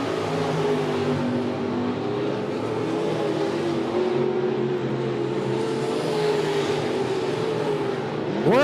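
Race cars, including bombers, pure stocks and legends, roar down the back stretch of the dirt track at Monett Motor Speedway, a loud, sustained engine drone that swells and fades slightly as the pack runs toward turns three and four.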